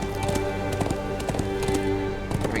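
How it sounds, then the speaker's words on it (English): Horse hooves clip-clop in the game Lord of the Rings Online as a mount is ridden inside a palace, a rhythmic run of sharp taps over a steady background of game music and ambience. "Let's just mount a horse."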